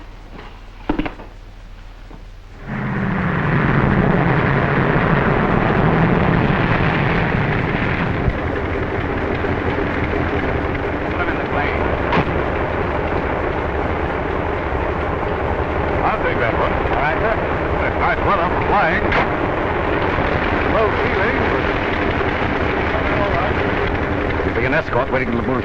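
A 1930s propeller aircraft engine drones steadily and loudly after a quiet start, a continuous roar heard close up with voices talking under it.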